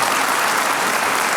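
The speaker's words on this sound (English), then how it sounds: "Please give them a round of applause." Conference audience applause for standing panelists at a generative AI business event: a steady, dense wash of many hands clapping throughout, loud and even, with no talk over it.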